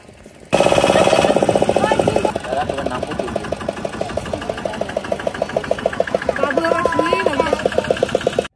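A boat motor runs steadily and close by on the water at sunset near Talsari beach, a rough, rattling mechanical drone with rapid knocking pulses that holds for the whole stretch and stays loud throughout.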